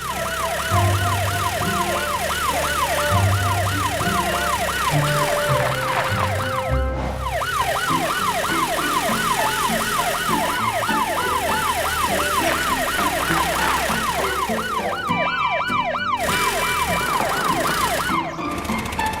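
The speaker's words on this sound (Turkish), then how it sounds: "Garajdan polis arabası çıkıyor. Tepe lambasını yakıyor ve olay yerine gidiyor." A cartoon police car's wailing siren rises and falls continuously, loud and close, over a steady engine rumble, with brief breaks near the middle and end.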